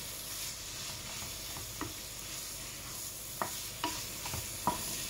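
Minced meat with red pepper powder being stirred in a pan, soft sizzling under scattered spoon scrapes and taps, quiet and close, no talk.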